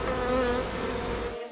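Dense, steady buzzing of bees swarming around a beekeeper working hives outdoors, loud and continuous with no talk, cutting off abruptly near the end.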